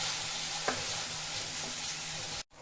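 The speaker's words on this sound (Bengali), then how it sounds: "আদা রসুন পেঁয়াজ লঙ্কা সব ভাজা হয়ে গেছে" Ginger, garlic, onion and chilli frying in a pan give off a steady, hissing sizzle with a single faint utensil tap, ending in a brief cut to silence just before the close.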